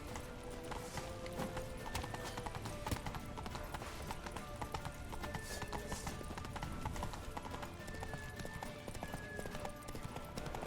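Rapid clip-clop of galloping horse hooves in The Witcher 3 during an escape scene, continuous and busy, with occasional tonal effects layered over it.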